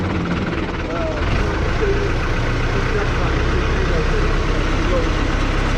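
A heavy diesel tractor engine idles and runs steadily, a low rumbling drone throughout, with faint voices over it, while its hydraulics are tested for not lifting.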